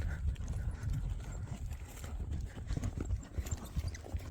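Horse hooves clip-clop steadily during a ride, a continuous close rhythmic thudding with a low rumble underneath and no talk.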